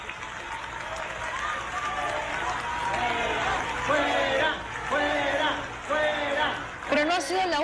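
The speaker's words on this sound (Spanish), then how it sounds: "Y muchas personas aplaudiendo, ¿no?" Audience at the Lima Film Festival inauguration applauds continuously, with crowd noise, shouts and cheering voices rising over the clapping and talk audible throughout.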